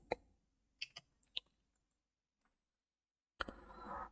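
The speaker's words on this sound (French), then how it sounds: "Et ensuite, on clique sur suivant." Several sharp, close mouse clicks arrive in a quick scattered cluster, then a pause and a faint tick, ending with a louder click followed by a brief rustle; all quiet and alone without talk.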